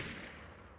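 Explosion in a German-streamed video game, a single dense broadband blast already in progress and rolling off over under a second, loud and close with no talk over it.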